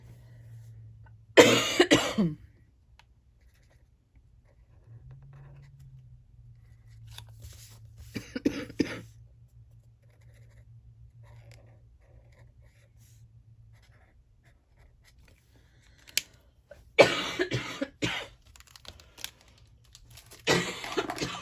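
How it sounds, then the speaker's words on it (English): Someone with asthma gives three separate bouts of harsh, close coughing, each a quick cluster of hacks spaced several seconds apart, with faint rustling in between. "I feel like every time I make a video, you guys have to listen to me hacking."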